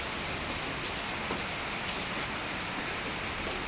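Steady, dense rain pours down and patters on surfaces outdoors during a heavy downpour under a red alert. The sound is continuous, even and fairly loud, with no voices.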